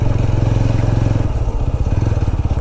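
A motorcycle labors along a rough trail on a solo ride toward Nanemachi waterfall near Pune, its engine a steady close throb with slight bumps and jolts, alone without voices.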